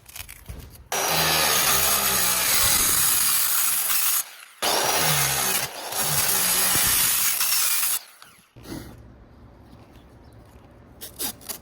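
A power saw cuts through a van's metal roof to make an opening for a MaxxFan vent, giving loud, harsh rasping bursts of a few seconds each, separated by short pauses, with a quieter stretch at the end.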